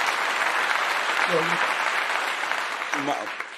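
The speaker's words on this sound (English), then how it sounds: "Let me give you the official round of applause" A round of applause breaks out on a talk show, a steady wash of clapping from a group. It is fairly loud and continuous, with brief voice sounds rising above it.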